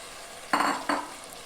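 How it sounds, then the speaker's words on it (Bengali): Fried potatoes tipped into mutton curry in a pan, two short scraping, sizzling bursts close by, each fading quickly, with no talking. "এখন আমি এই অবস্থায় দিয়ে দেব যে ভেজে রেখেছিলাম যে আলুগুলো, সে আলুগুলো এখন দিয়ে দেব।"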